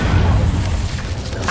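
Incendio fire spell cast in Hogwarts Legacy: a loud, brief whooshing burst of flame with a deep booming rumble.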